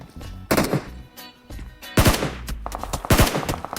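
Gunfire in the mobile game PUBG Mobile comes as several loud, close bursts of shots, some in quick rapid strings, separated by short gaps of quieter game background.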